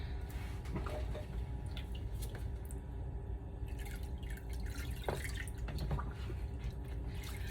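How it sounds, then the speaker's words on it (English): Water runs steadily over a water-marbled paint print as it is rinsed. The trickle and splash stay close and continuous, with scattered drips and small splatters throughout and no voices. "So again, I'm just gonna rinse it."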